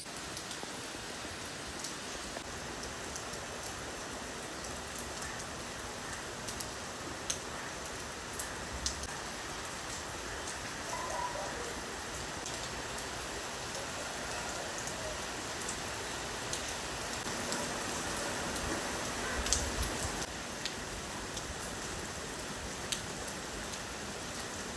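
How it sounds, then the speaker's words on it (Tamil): Steady rain falls and spatters on surfaces outdoors. It makes an even, moderate hiss with occasional louder drips, and no one speaks over it. "மழை அடிக்குது"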